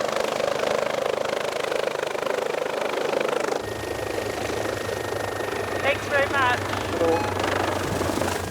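The Westpac rescue helicopter flies on an emergency airlift for a brain bleed patient, its engine and rotor giving a steady loud drone that shifts partway through, while a voice speaks briefly over the noise.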